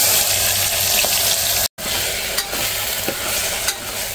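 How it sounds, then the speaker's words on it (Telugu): Onion paste fried in oil with whole spices, bay leaves and chilies, giving a dense, continuous sizzle with occasional stirring scrapes, close and steady, cut by one brief gap of silence. "ఆనియన్ అయితే వేగిపోయి ఆయిల్ అయితే వదిలేస్తుంది"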